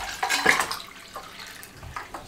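Chilled water splashes and pours into a mint lemonade mixture, a short burst of liquid gurgling and splashing that peaks early then trails off into quieter trickling.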